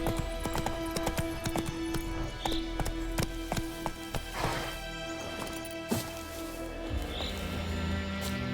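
Roach the horse gallops in The Witcher 3: Wild Hunt, with steady hoof clip-clops close up over a game music bed and a brief whinny-like call.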